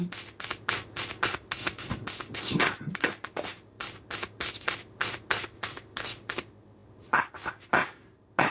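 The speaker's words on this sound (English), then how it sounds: "A lot of shuffling." Tarot cards are shuffled by hand in quick, repeated riffling and sliding bursts, close and fairly quiet, with short pauses between handfuls and no talking.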